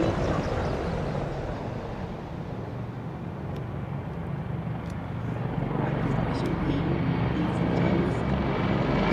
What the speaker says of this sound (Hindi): the Indian Air Force presents its flypast